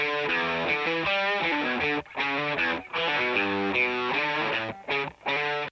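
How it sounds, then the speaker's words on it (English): Electric guitar riff with a Telecaster on the bridge pickup layered in for bite and attack, dense harmonic chords played loud and continuous with brief rhythmic stops, no talking. "I added my Telecaster with the bridge pickup to give it some"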